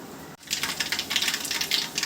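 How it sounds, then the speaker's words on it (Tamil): Rapid crackling and popping of mustard seeds spluttering in hot oil for crab curry, irregular bursts continuing steadily after a brief pause at the start. "இப்போ வந்து கடுகு வெடிச்சிருச்சு"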